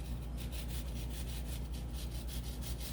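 Orange peel being zested for sticky Asian wings, a soft rhythmic scraping rasp repeating about four times a second, close and quiet over a low steady hum.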